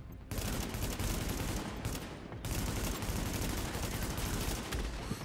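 Gunfire in the video game The Division: dense, continuous automatic bursts, loud and close, with brief pauses near the start and around the two-second mark before firing resumes.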